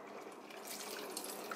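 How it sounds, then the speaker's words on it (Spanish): Half a small cup of water is poured into a tomato and chile salsa for pork, a short, soft, trickling pour heard alone at low volume. "Le voy a agregar 1/2 tacita de agua."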